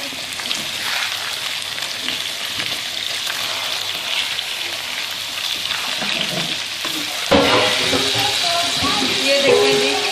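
Chicken pieces sizzle and fry in a pan with a spoonful of garlic ginger paste, a steady loud crackling hiss that flares brighter partway through, with no talking over it.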